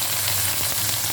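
Tadka tempering with tomatoes sizzling in a pan, a loud, dense, steady hiss of frying with faint crackles, close and unbroken for a brief moment.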